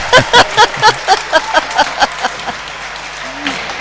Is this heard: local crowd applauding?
yes